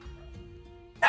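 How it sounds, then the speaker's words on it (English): Pet dog starts barking after the doorbell rings: one loud, close bark bursts out at the end, following a quieter stretch of steady background tones. "my pupper just decided to start barking because the mailman had rung our doorbell"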